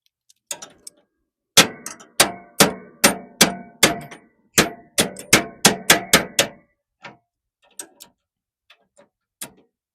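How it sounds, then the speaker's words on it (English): Hammer blows ring out on metal parts of a lawn mower, a sharp series of evenly spaced clanging strikes that speeds up in the middle and then thins to a few scattered taps, close and loud. "Something a hammer or something could do."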